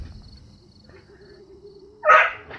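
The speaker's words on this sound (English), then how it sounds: "Sorry, the barking. Frodo's trying to get to a cat." A dog named Frodo, straining to get at a cat, lets out one sudden loud bark after a quiet stretch of faint room noise.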